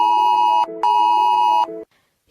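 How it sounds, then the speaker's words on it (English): A mobile phone emergency alert tone sounds in two loud, sustained electronic pulses, each a harsh steady beep ending in a short stepped tone, followed by a brief pause and the start of another. "mobile phones across the country are going to vibrate and make a loud noise like this"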